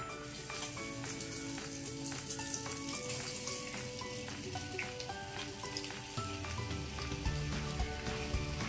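Chicken bread rolls frying in hot oil, a steady dense sizzle and bubbling close up, continuous throughout and slightly louder toward the end as the rolls are moved in the pan.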